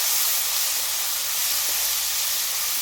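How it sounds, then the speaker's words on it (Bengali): Spice paste with panch phoron cooks in a pan, giving off a constant close, hissing, steamy sizzle that holds evenly throughout with no talking. "এবার আমি মশলাটাকে একটু কষিয়ে নেব।"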